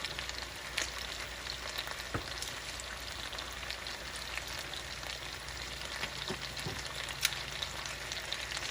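Butter melting in a hot pan gives a quiet, even sizzle with scattered soft pops and crackles that carry on without a break; no one speaks.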